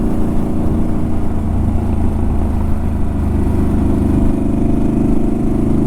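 A motorcycle rides along with a spare tire hauled on it, its engine a steady, loud mid-range drone with constant wind rumble and no talk.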